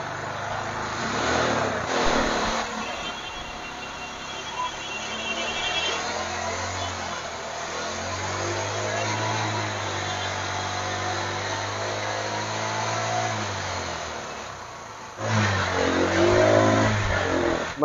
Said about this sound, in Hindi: चलिए बाइक को स्टार्ट करता हूँ और आप लोगों को दिखाता हूँ